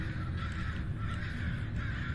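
Crow cawing inside the horror game Summer of 58 at a haunted orphanage, harsh drawn-out calls repeating over a heavy, rumbling low ambient drone, fairly loud and steady with no talk.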